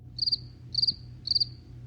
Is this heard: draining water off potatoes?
no